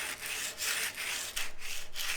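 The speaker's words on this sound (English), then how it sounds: "You want to be pushing that edge and dragging the other edge because you'll be digging into the sandpaper." A steel plane iron blade scrubbed back and forth on sandpaper by hand, making a close, rhythmic rasping in repeated strokes that quicken near the end.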